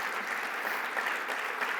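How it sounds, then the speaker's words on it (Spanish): Applause from a conference audience at a green hydrogen projects panel in Chile, a steady dense wash of clapping held at an even level throughout, with no voices over it. "Un aplauso, por favor, para Álvaro."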